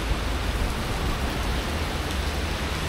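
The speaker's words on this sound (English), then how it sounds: "It's raining, it's thunder and lightning," Heavy rain pours down in big drops during a thunderstorm, a dense, loud, unbroken hiss with no distinct thunder clap standing out.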